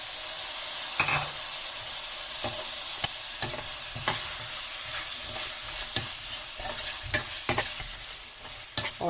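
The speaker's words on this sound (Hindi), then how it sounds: "और टमाटर को हम अच्छे से इसमें पकाएंगे।" Tomatoes sizzle in a pan with ginger garlic paste, a steady frying hiss broken by repeated scraping stirs of the spoon, close up with no voices.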